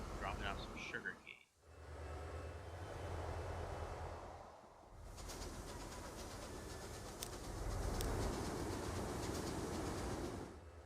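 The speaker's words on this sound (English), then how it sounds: "they just have to wait until this train passes through, dropping off some sugar cane." Freight train rolling through in the video game Transport Fever 2, delivering sugar cane: a steady low rumble of wagons that drops out briefly then swells louder and denser toward the end, with faint bird chirps early on.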